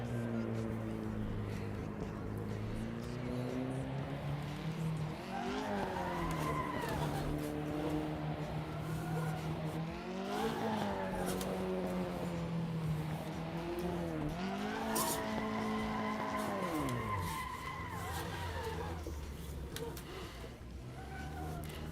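A car drifting on a practice track, engine revving in repeated rising and falling pulls while the tires squeal in long sweeping skids, loud and continuous with some talking mixed in.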